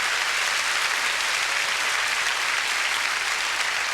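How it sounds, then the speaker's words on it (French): Steady, dense applause from a studio audience at a Quebec television talk show, a continuous even wash of many hands clapping throughout with no talk over it. "On l'applaudit, mesdames et messieurs,"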